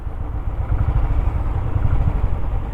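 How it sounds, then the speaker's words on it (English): A motorcycle engine idles close by with a steady, rumbling low thump and a faint mechanical clatter that carries evenly throughout, with no voices. "Look at that thumping engine"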